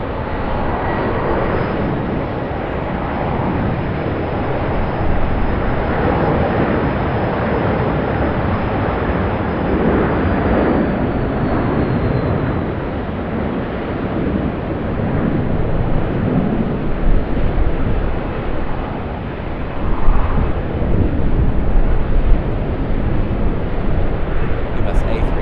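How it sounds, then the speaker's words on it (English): Airbus A321 taking off at Sydney Airport, a sustained loud engine roar building and rumbling on throughout, with some swelling and crackle toward the end. "this A321 heading out"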